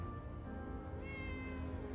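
A cat meows in one long, drawn-out call lasting about two seconds, fairly loud and close, with no talking over it.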